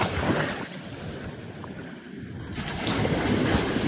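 Ocean waves wash in at a beach, a steady broad rush of surf mixed with wind buffeting the microphone, swelling louder toward the end, with no one speaking.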